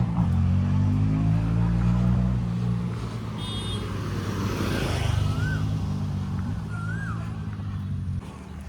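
Traffic on a busy road in Goa: a continuous engine drone of cars and motorbikes passing close by, with a few horn toots and tire hiss, steady and loud throughout.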